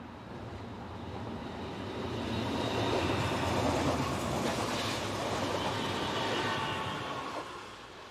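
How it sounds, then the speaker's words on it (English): An SBB Class Ae 6/6 locomotive hauling a train passes close by on Swiss lines, a broad steady rumble with wheel and rail noise that swells to a peak midway and holds through the pass. "On its way to CZECH is this SBB Class AE66 locomotive, number 610519."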